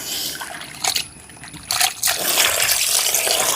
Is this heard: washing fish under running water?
yes